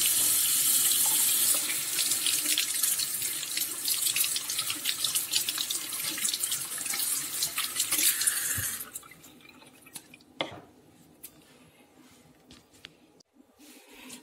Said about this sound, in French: je viens de rincer et j'y ai mis l'eau propre du robinet